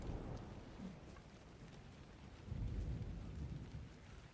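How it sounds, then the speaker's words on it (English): Steady rain and rolling thunder during a lightning storm in Ark: Survival Ascended, Genesis map, with a louder rumble swelling about halfway through over constant downpour. "That is some over-the-top lightning."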